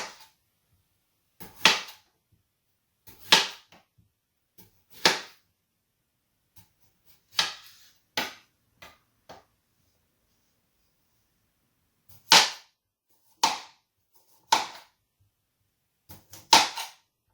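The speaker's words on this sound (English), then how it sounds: "I have some potatoes that I've already washed, and I'm going to slice them into rounds." Potatoes are sliced into rounds with a knife, giving a series of sharp, close cutting snaps in uneven clusters separated by short silences.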